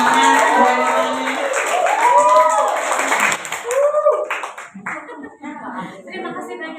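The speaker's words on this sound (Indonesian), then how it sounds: "Bisa memberikan tepuk tangan dulu biar semangat Bu Anitanya." An indoor audience at a school gathering gives a burst of scattered hand clapping for a speaker. The clapping is mixed with voices talking and thins out toward the end.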